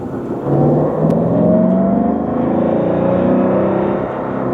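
A Porsche 928 S4 engine drones steadily from inside the car while driving, a smooth, loud continuous hum with gently rising harmonic tones as it pulls along, no voices.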